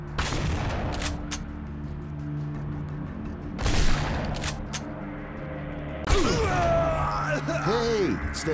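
Gunfire in the video game The Punisher, sharp bursts of shots in a few clusters against a droning background, with voices speaking between them.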